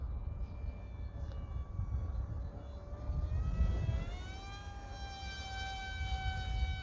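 Radio-controlled SU-35 model jet at full throttle, its electric ducted-fan whine rising in pitch and holding steady as it flies outdoors in light wind, with no talking.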